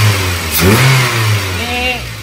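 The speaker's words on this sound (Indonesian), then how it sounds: "Ini sebenarnya mesinnya sudah kasar karena sudah usia" A worn, rough-running Toyota Avanza engine is revved in short surges over a rough idle, close and loud, while someone speaks over it.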